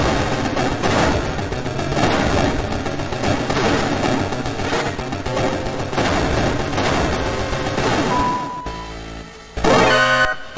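Rapid bursts of video game gunfire from Metal Gear 2 fill the scene with repeated loud shots, mixed with game music and effects, then break off near the end before one more sharp burst.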